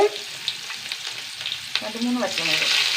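Onions and curry leaves frying in a hot pan, a steady crackling sizzle with scattered pops and the scrape of stirring, near and fairly loud, building toward the end.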